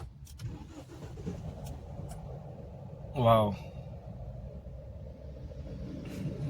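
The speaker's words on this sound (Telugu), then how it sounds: "ఇంజిన్ అనేది మనం ఒకసారి ఆన్ చేసుకుందాము" A Mahindra XUV engine starts with a push-button, a short rising crank-and-catch burst that settles into a low, quiet idle rumble inside the car, with a brief exclamation from a voice.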